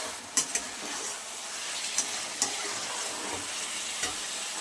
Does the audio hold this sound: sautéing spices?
yes